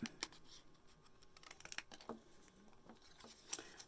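Scissors snip through craft card pieces, trimming little squares for handmade cookie cards; quiet, close crisp cuts come in short irregular bursts with soft paper handling between, and no one speaks.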